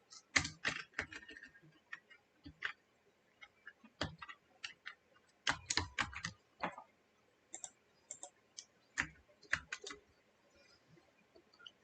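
Quick, light clicking of keys on a computer keyboard, typed in short irregular bursts with brief pauses, close and fairly quiet.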